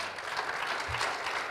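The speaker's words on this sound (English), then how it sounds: "I just want us to clap for the organizers of this" Brisk clapping from a youth capital-market forum audience in Kigali, applauding the event organizers; a short, even burst of many hands with no voices over it.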